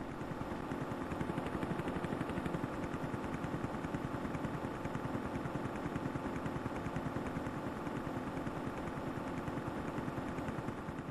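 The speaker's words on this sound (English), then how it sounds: "we'll hear the sounds of war again as that tank continues to battle on" Tank battle in the Amiga game Zeewolf, with rapid continuous machine-gun fire rattling in a fast steady rhythm over an engine-like drone, alone and fairly quiet.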